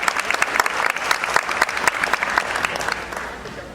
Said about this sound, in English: Let's give him a great big round of applause as he comes.